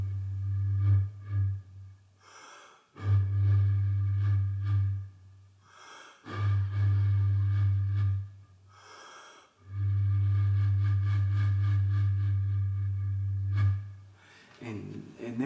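Kākāpō mating song imitated on Māori taonga puoro: deep, booming resonant tones repeated in long sustained pulses separated by short gaps, with breathy attacks, close and fairly loud with no talking.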